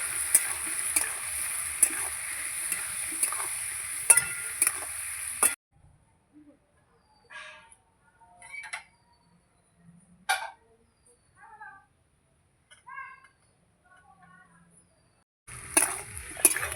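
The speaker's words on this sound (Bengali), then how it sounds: "এবার সবজির সঙ্গে মশলা ভালো করে কষিয়ে নেব।" Vegetables and spices stir-fry in a pan with a brisk sizzle and stirring for about five seconds. Then near silence follows with scattered faint clicks and scrapes, and the sizzle returns briefly at the end.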